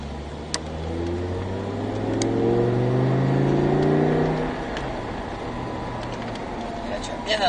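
A sports car's engine revs and accelerates on a track, a rising whine with climbing harmonics that swells, peaks, then drops back into a steady lower drone, with brief clicks over it.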